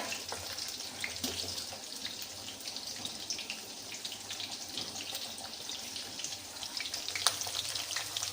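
Peanuts, chana dal, urad dal and green chillies fry in hot oil in a home kitchen, giving a steady, close crackling sizzle that runs the whole time with a few sharper pops.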